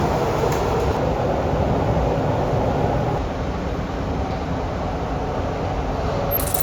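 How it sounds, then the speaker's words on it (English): Busy train interior heard through Samsung Galaxy Buds 3 Pro earbuds: a steady, loud, broadband rumble and hiss of carriage noise that continues without a break. "this is how it sounds like on a train in a busy environment"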